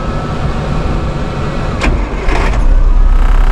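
An old Australian-built Chamberlain tractor engine cranks over and starts, a steady low rumble that thickens and grows louder toward the end, with brief higher bursts partway through.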